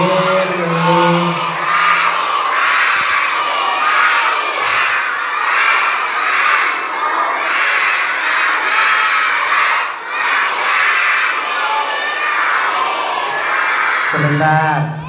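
A group of children at an Islamic kids' study session shouting loudly together, a sustained, close chorus of excited young voices that dips briefly and then swells again.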